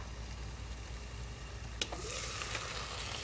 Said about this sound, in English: We will just stir.